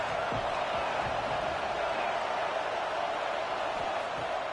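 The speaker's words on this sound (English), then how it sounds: "This crowd bringing the energy and noise early." Dense stadium crowd roar at a Florida vs LSU college football game, a steady wash of massed voices filling the whole stretch without a break, loud and close.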